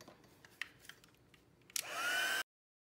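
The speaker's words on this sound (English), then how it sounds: "And now I'm gonna heat set." Heat tool setting embossing powder on a handmade card switches on after a few faint clicks, letting out a steady, fairly loud blowing whir with a rising whine for under a second before it cuts off abruptly.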